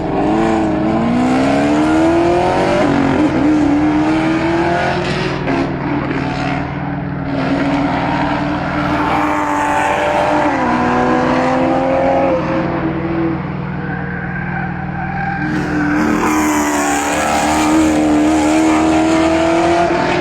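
Race cars on the Lanier oval track roar continuously at full throttle, loud engine whines rising and falling as several cars pass close by in a steady, dense wall of engine noise.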